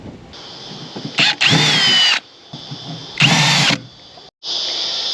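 A power drill whirs in two strong bursts, separated by quieter motor hum and brief pauses, close up with no talking.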